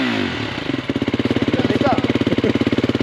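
A motorcycle engine fires up for a 24-hour TT off-road endurance race, settling into a loud, rapid, steady throb close by with a brief rise in revs partway through.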